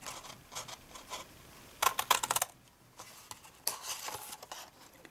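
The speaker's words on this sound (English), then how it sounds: "notch the piece out there, notch out again." Cardstock for a gift box is notched and cut, giving sparse light ticks and then a couple of sharp clustered snips and clicks, close and fairly quiet, with no talking.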